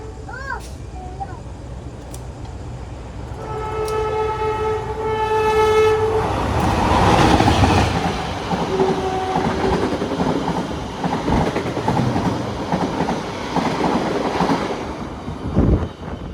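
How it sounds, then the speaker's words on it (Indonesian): A Kahuripan passenger train rumbles past close by, its horn sounding several times before the heavy roar and clatter of the carriages build and fade, with voices nearby. "kereta api Kahuripan sudah melintas langsung"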